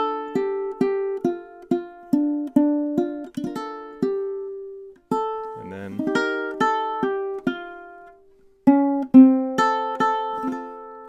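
Ukulele chorus of a song, plucked and strummed chords ringing out in a steady rhythm with short pauses between phrases, played alone and close.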